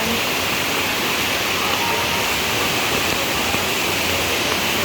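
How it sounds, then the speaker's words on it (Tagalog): A steady, loud roar of rushing floodwater during heavy rain fills the whole stretch without pause, a broad continuous wash of noise. "ang lakas na din ng tubig dito"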